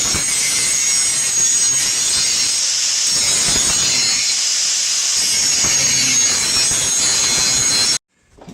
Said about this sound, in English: we're going to do some grinding and grind off these welds that were holding the previous bumper on